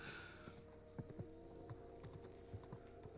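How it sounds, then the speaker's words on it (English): Hooves of a horse trotting in a video game clip-clop at a quiet, even pace, with faint background sound from the game throughout. "We're gonna take our little horse for just a trot."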